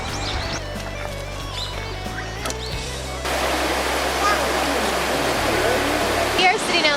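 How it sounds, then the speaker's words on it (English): River water rushing past the Kawayu Onsen hot springs in Wakayama, a steady broad hiss that swells noticeably louder midway and continues unbroken, with faint voices or other sounds in the quieter opening stretch. "The river itself is cold, but you can dig down under the rocks and the water bubbles up"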